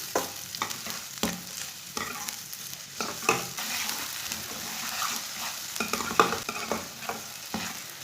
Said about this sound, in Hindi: प्याज को ना 2 मिनट तक भून लेंगे।